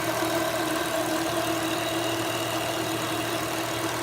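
An Acura RSX engine fitted with a 50-trim turbo kit idles steadily with a damaged turbo whose shaft appears broken, giving a constant droning hum with faint irregular knocking and no voices.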